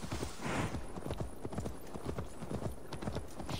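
Horse hooves gallop in rapid, rhythmic clip-clop beats in Assassin's Creed Valhalla, loud and close throughout, with an occasional whinny layered over the steady pounding.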